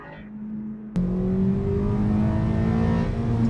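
A modified Mazda Skyactiv engine with a throaty intake revving up from idle inside the car, a sudden loud rise into a droning, climbing induction note.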